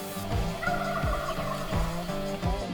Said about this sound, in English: Big gobbler, he's following hens, right there across the meadow.